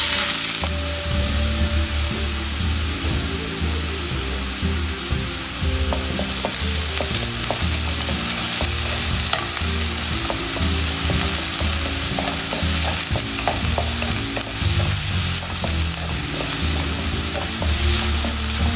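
Mustard seeds, onion and green chili fry in a pan with a loud, steady sizzle, joined by crackling pops and occasional stirring scrapes throughout.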